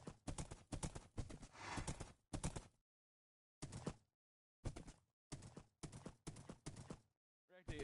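A Minecraft horse eats in a series of repeated chomping bursts, some quick runs of bites clustered together and others separated by dead silence, crisp and close with no talk.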